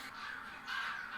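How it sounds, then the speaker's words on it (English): A flock of crows caws outdoors, overlapping harsh calls at moderate distance, fairly faint and continuous through the brief moment. "It's a shitload of birds."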